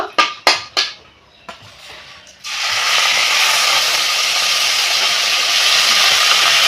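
Cumin, ginger and green chilli paste drops into a hot pan: a few sharp clicks and knocks, then a sudden loud, steady hiss of sizzling that carries on to the end.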